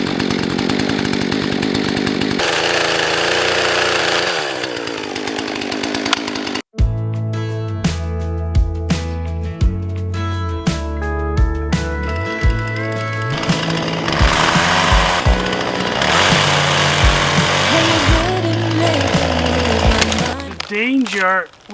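A chainsaw engine roars loudly and continuously, its pitch rising and falling as the throttle revs, after a stretch of harsh broadband noise, while cutting old dead trees.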